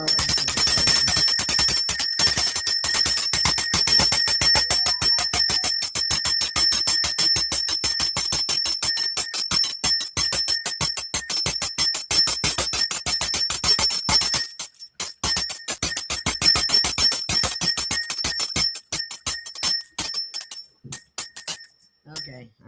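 A bell rings continuously in a rapid, sustained trill, loud and close, for about twenty seconds before breaking up into a few final strikes and fading out.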